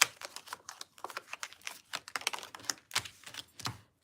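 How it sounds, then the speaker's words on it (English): Repeated quick papery slaps and riffling bursts of tarot cards being shuffled, close up, in an irregular rhythm with no talking. "we're going to shuffle these around."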